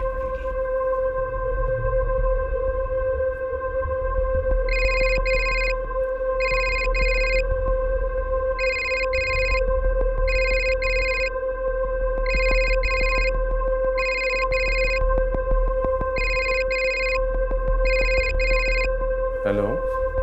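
A telephone ringback tone heard after a call is dialed: repeated paired high rings in a regular pattern over a steady electronic hum, close and clear, with no voices.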